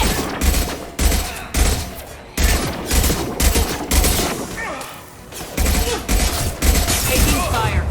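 Gunfire from the video game Mass Effect 2 comes in repeated loud bursts of shots, close and intense, with brief pauses between volleys.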